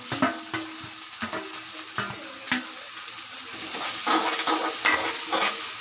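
Half-boiled vegetables for fried rice fry in a hot pan, a continuous loud sizzle broken by repeated clacks and scrapes of a spatula as they are stirred.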